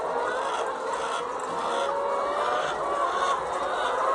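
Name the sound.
laying hens clucking in automated poultry cage farm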